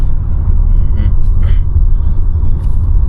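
A car is driven along the road, its steady low engine rumble and road noise loud and continuous from inside the cabin, with no clear talking.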